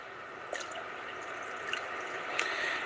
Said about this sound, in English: Give it another little splash of water.